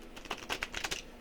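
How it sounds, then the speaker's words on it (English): Cards are shuffled in a quick riffle, a crisp burst of close fluttering snaps lasting about a second, with no voices. "Let me give this another shuffle."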